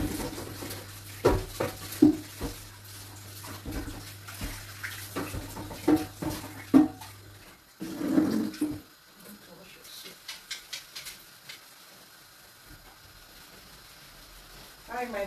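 Water runs and splashes while something is washed in a kitchen before cooking crayfish, with irregular sloshing bursts and knocks throughout, a steady low hum in the first half, and no talk.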